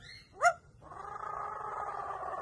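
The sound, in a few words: parrot imitating a cat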